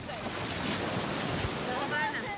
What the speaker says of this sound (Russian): Волны то шепотом, то смеясь подступают к берегу, оставляя на песке тонкие кружева пены.